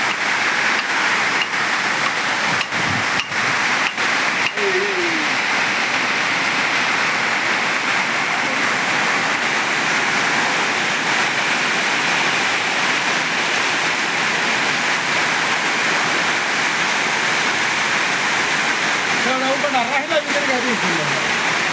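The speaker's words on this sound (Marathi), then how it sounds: "आता पावसाचा जोर वाढला जास्त यायला लागला पाऊस" Heavy monsoon rain on a farm pours in a steady, dense roar throughout, with a voice briefly rising over it now and then.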